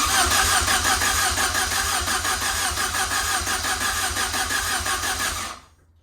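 A Saab 900 Turbo engine being started: a loud, rhythmic, pulsing churn of cranking and running close by for several seconds, then an abrupt cut to silence.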